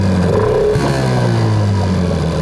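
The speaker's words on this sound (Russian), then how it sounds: "Давайте посмотрим, как будет работать мотор" Two-stroke outboard boat motor running on Yamalube TC-W3 oil mix at low trolling speed, a loud, close, steady engine drone whose pitch drifts slightly, with no voices.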